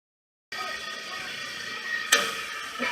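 A buffing wheel runs against silver coated in polishing compound. The steady whirring grind starts abruptly after a brief silence, with one sharp scrape partway through.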